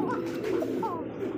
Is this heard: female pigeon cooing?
yes